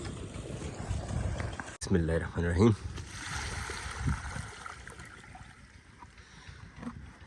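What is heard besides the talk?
water poured from a bucket onto lemon plants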